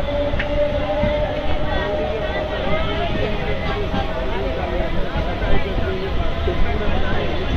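A Patna–Rajgir local MEMU train departing Rajendra Nagar Terminal, a steady loud rolling rumble and clatter of the rail cars heard from on board, with someone talking over it.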